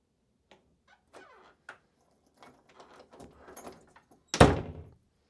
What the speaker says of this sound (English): And we're going to make sure we could also unlock the door.